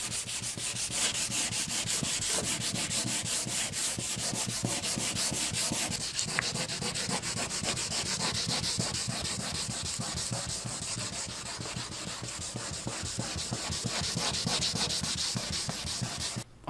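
Steady, rhythmic hand sanding rubs back and forth continuously to smooth away a ridge on a surface, a close, even scratching stroke with no talking.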